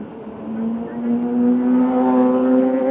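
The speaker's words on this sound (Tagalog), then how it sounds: "Naririnig ko yung tambutso eh." A car engine revs up with a rising, steady exhaust drone that grows louder and higher in pitch over a few seconds, fairly close.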